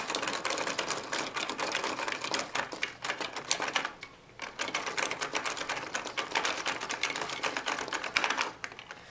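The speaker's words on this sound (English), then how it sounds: "check out my Lego Printer 3000." A homemade Lego printer mechanism runs with a rapid, continuous clatter of rattling, tapping parts, loud and close, pausing briefly midway before starting up again.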